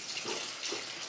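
Water runs steadily from a sink tap, a soft continuous hiss and splash at moderate volume with no voices.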